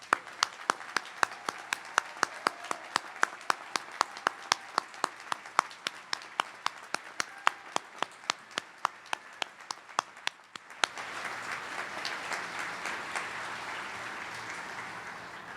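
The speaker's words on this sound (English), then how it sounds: "one more big round of applause for our graduates" Sharp, evenly spaced claps repeat for several seconds before a crowd at a graduation commencement ceremony breaks into full, sustained applause.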